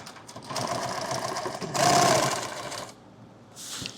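A sewing machine stitches Velcro strips onto a laptop bag, a loud continuous run that swells to a faster burst midway, eases off, then picks up again.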